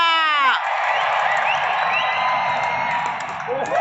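A large crowd cheering at the Narendra Modi cricket stadium in Ahmedabad as the first ball of the day is bowled, a loud continuous roar with whoops and shouts, opening with a brief whistle-like call.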